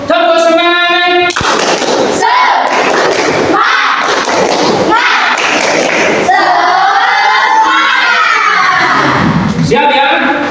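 Schoolchildren in a sixth-grade classroom do a rhythmic spirit clap, loud and close, with sharp thumping claps in bursts and chanted voices running throughout.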